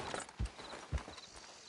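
Horse hooves clip-clop in Red Dead Redemption 2, a few clear, fairly close hoofbeats at an unhurried walking pace with no talk.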